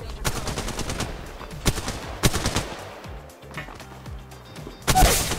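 Rapid gunfire in the mobile shooter Apex Legends Mobile, with sharp, repeated shots in bursts and a louder blast near the end, heard up close with no talking.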